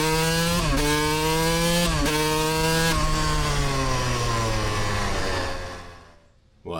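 A Suzuki RM125 two-stroke dirt bike engine revs hard and loud up close as its power valve opens, with a buzzing, rising pitch, two sharp blips, then a long high-rpm hold before dropping off sharply at the end.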